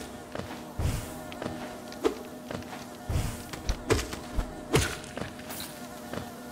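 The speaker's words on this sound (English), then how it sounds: "They just look like nice little innocent bees, but they are coming at me when I get close." Bees buzzing in the video game Hollow Knight: a steady insect drone hangs throughout, broken by repeated sharp, punchy thuds at an uneven rhythm.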